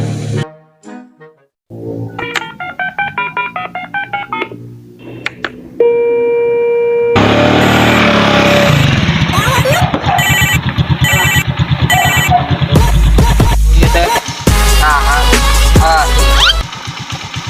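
A melodic electronic phone ringtone chimes, then swells into a louder, busier tune with deep thumping bass bursts, playing on without pause.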